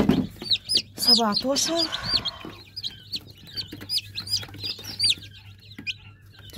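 Hatchery chicks of Indian and Brahma breeds peep nearby in rapid, high, repeated chirps, while a person counts aloud over them.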